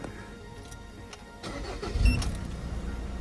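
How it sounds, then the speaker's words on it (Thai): A car engine starts up after the electric throttle pedal has been reset F1-style, a brief cranking burst followed by a steady idle, close and fairly loud with no talk. "ทีนี้เราก็สตาร์ทเครื่องได้เลยนะครับ"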